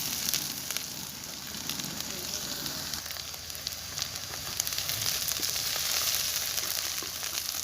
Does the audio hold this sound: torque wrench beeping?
no